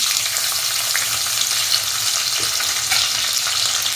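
Shallots, curry leaves and chillies sizzle and crackle steadily in hot oil left from frying ginger, a dense, continuous frying hiss close up with occasional stirring and no talk.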